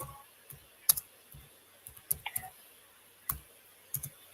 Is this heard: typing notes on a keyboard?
yes